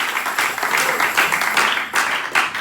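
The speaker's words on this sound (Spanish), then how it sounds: "Dele la ofrenda de palmas al que todo lo puede." A church congregation applauds during a Spanish-language sermon, loud sustained clapping that swells in repeated waves.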